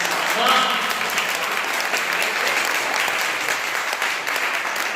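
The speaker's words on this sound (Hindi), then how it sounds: "देखो अटल जी के सम्मान में श्रद्धांजलि में एक बार जोरदार तालियां।" An audience at an Atal Jayanti kavi sammelan, a Hindi poetry gathering, breaks into loud, sustained applause that fills the whole stretch and stays fairly steady before easing slightly.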